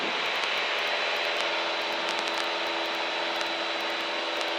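Light aircraft G-AYEF cruises around 2,000 feet after departing Barton, its piston engine droning steadily and loudly from inside the cabin with no speech.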